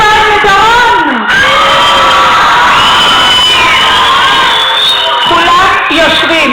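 A crowd of children at a summer camp for Sderot kids, held in an indoor play centre, cheers and shouts loudly and continuously, with high voices whooping close by.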